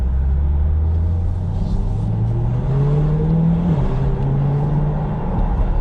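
A 2020 C8 Corvette with the carbon fiber package accelerates hard from inside the cabin, its engine note climbing steadily with quick shifts breaking the rising drone, loud and continuous throughout.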